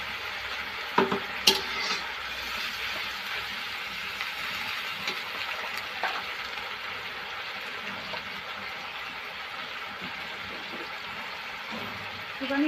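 Tomato paste and onion paste fry in a pan for a prawn malai curry, giving a continuous even sizzle with a couple of quick utensil clinks near the start, close by and moderately loud.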